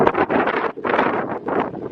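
Gusty wind buffets a microphone outdoors at a family campsite on a farm, a loud rumbling rush that surges in uneven bursts with brief lulls and no voices.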